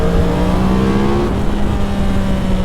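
A 2010 Yamaha R1 motorcycle engine running, a loud, close, continuous droning hum with steady tones and slight pitch shifts, no voices.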